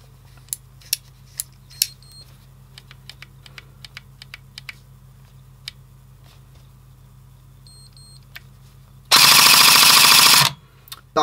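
Airsoft replica fitted with a PERUN V2 optical trigger unit fires one full-auto burst of about a second and a half, a loud dense rattle after a run of faint, scattered clicks.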